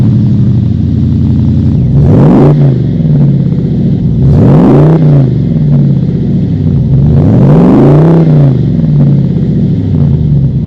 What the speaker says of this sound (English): it gives you a nice deep low note when you are kind of cruising around, when you start the truck